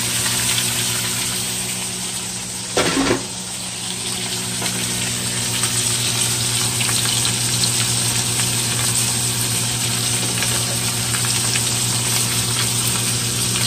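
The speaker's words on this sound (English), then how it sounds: "So now I'm going to brown them on each side." Rested ribeye steaks browning in a hot pan for a reverse-seared medium-rare finish, a loud steady sizzle running throughout, with a brief burst of louder crackling early on and no talking.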